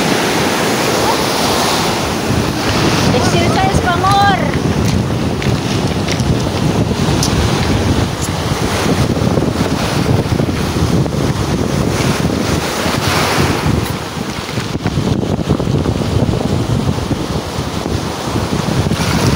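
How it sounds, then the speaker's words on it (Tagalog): Strong ocean waves crash and roar continuously, with heavy wind buffeting the microphone; a voice speaks briefly beneath the surf. "Lakas ng alon guys"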